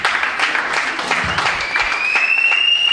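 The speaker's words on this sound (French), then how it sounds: "Sur vos applaudissements," An audience at a fashion show claps in a steady wash of applause, with a few sharper claps standing out and a high whistle rising near the end.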